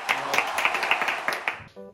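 Hand clapping from a small group of people, a quick run of sharp claps lasting under two seconds and then stopping, followed by a brief tonal sound.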